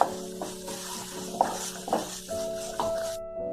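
Masala for mushroom butter masala fries in a pan, a soft sizzle under spoon scrapes and light clinks of utensil against cookware, several distinct knocks spaced out before the sound cuts off.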